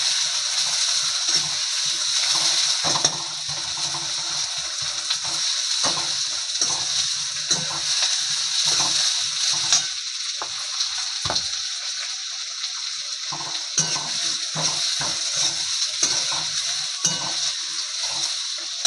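Continuous hiss and crackle of onions frying in a pan, fairly loud and close, with occasional stirring clatter throughout.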